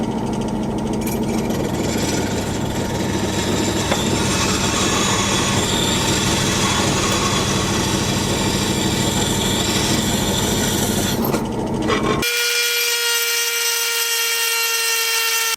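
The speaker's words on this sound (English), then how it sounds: "drill a sprocket out where these holes are" A power drill bores holes in a steel bike sprocket, whining and grinding loudly and continuously up close for about twelve seconds before the motor cuts off abruptly, leaving a faint steady hum.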